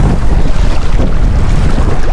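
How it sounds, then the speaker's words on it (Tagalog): Strong wind gusts buffet the microphone at a beach at Rapid Bay, a loud, close rushing roar with low-frequency thumping that never lets up. "Ang hangin siguro."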